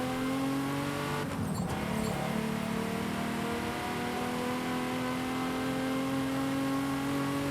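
A Ferrari engine in Forza Horizon 5 drones steadily at high revs for the whole stretch, with a brief burst of noisy scraping or tire hiss early on and a steady pitch throughout.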